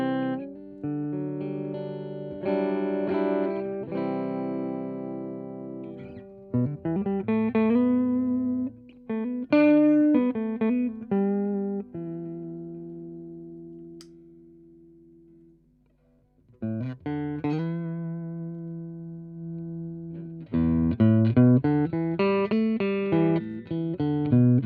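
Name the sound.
electric guitar through tube amp in 1 watt mode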